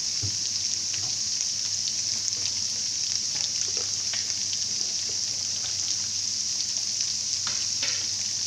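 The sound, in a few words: ginger and garlic frying in a pan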